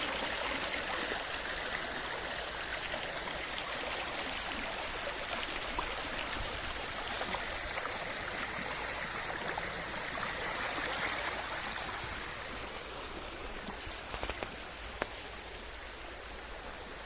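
A river swollen and overflowing after heavy rain, with floodwater across surrounding farm fields, rushes past in a continuous, broad roar that stays nearly constant throughout.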